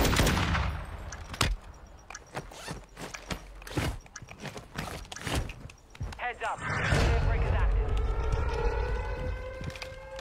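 Video game combat with bursts of sharp gunshots and rapid automatic fire, followed by a rising, wailing siren-like drone, loud and close, with voices talking over parts of it.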